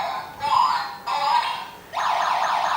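A home door-sensor security alarm siren wails loudly nearby, in sweeping electronic bursts that break and restart three times, with no voices over it.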